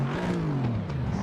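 Aston Martin engine heard from inside the cabin: a steady, fairly loud low drone at modest revs, its pitch sagging slightly over a second or so, with no talking.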